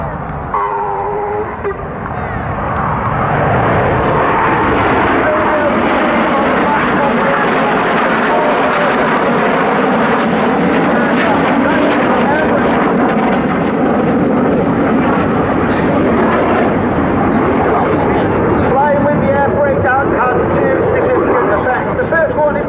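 A display team jet flies past at high throttle, a loud sustained roar that swells and fills the whole stretch, with a commentator talking over it.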